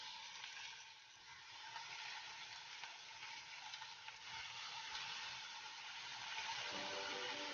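Oyster mushrooms frying in a hot pan, a continuous soft sizzle and crackle with occasional stirring scrapes, faint and close, the hiss swelling slightly toward the end.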